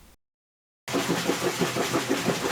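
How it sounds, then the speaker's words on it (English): Whirlpool washing machine motor agitating, entering after a short silence as a steady pulsing churn with a regular back-and-forth rhythm, moderately loud and close, no talk. "Let the washer agitate for about 20 minutes."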